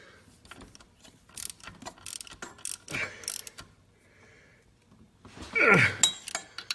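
Ratchet clicking as a bolt is tightened during replacement of an alternator on a 3.8 L 3800 Series II V6 engine, 1996–1999, with a run of short mechanical clicks and clinks, close and moderately loud, ending in a louder metallic burst.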